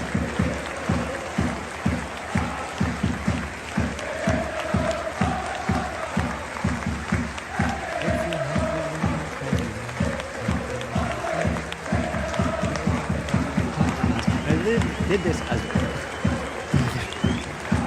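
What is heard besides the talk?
football crowd applauding during a minute's applause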